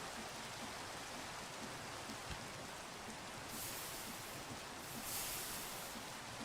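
Steady Minecraft rain hisses as a dense, even wash of noise, faint and continuous, with slight swells in intensity near the end.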